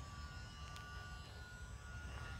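Quiet steady engine whine of an E-flite UMX Timber RC plane flying slowly at low throttle with flaps set, a faint continuous tone over light background noise and no voices.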